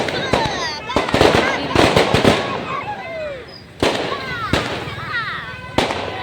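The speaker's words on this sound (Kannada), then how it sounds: "ಈಗ ಪಟಾಕಿ ಹೆಂಗೆ ಹೊಡ್ಲಿಕತ್ತಾರ ನೋಡ್ರಿ" Firecrackers burst repeatedly at a wedding reception in sharp loud cracks, some with whistling rises, near and far, over a steady crowd murmur.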